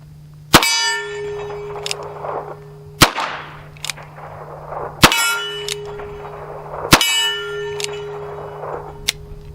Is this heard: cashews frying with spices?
no